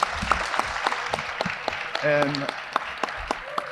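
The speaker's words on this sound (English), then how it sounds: "Let's give him a big round of applause." A crowd claps in a school gym at a basketball player's college signing ceremony, steady applause with a few louder individual claps, while a voice talks over it.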